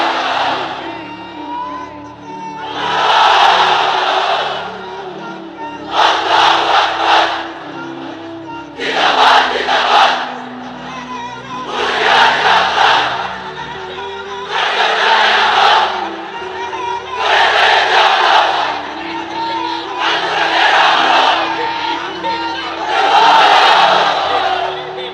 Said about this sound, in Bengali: এবার সবাই মিলে তিনটা, এক একটা তাকবীরে যাতে এই প্যান্ডেল কেঁপে ওঠে